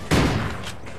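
A single loud shot from the Maverick sniper rifle in Call of Duty Ghosts, a sharp close crack that rings and decays over most of a second, with a fainter follow-up sound near the end.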